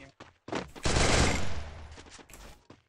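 Rapid automatic gunfire from the Garena Free Fire video game, a dense burst of shots lasting about a second between short clicks and game effects.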